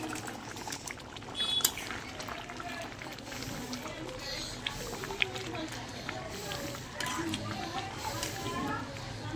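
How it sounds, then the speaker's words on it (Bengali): Prawn malai curry with milk simmers in an uncovered pot, giving a soft, steady bubbling and seething hiss throughout with faint small pops and no clear talk. "ঢাকনাটা খুলে দেখবো, ফুটে গেছে।"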